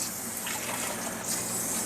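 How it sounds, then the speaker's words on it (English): A container fills with water for soaking rice, a steady close gushing and trickling pour that runs continuously for the short stretch, with no voices. "fill up the container with good amount of water"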